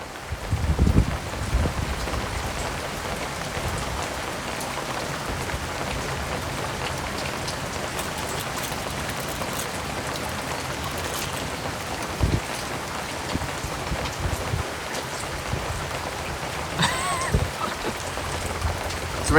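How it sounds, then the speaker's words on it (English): Steady rain falls outdoors on a trail, a dense continuous hiss of drops on surfaces with a few louder nearby splatters and brief knocks. "It's raining, Tim."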